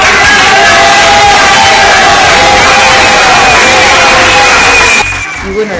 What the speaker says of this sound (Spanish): de pronto un gran sonido de aplausos y gritos.